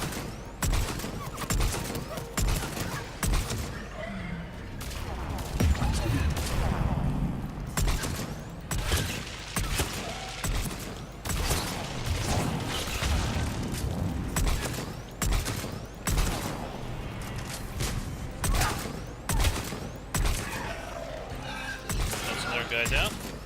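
Sniper rifle shots ring out in Mass Effect 3 combat amid a dense fusillade of other gunfire and explosions, with a player talking over much of the action.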